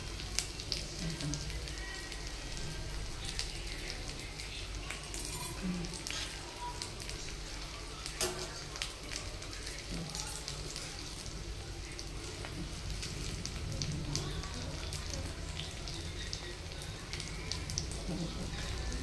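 Rolled colocasia-leaf alu vadi slices fry in oil while tongs flip them, a soft steady crackle and sputter under the clip with occasional sharper pops and light clicks.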